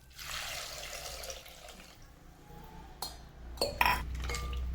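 Water is poured over mutton trotters in a pan for washing, a close splashing gush followed by small clinks and drips of the metal vessel being handled, with no talking.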